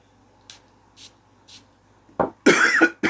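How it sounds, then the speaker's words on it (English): A person with a chest infection coughs several times, harsh and close, in a quick cluster near the end, after three soft, evenly spaced sprays or puffs in an otherwise quiet room. "It's making me cough more."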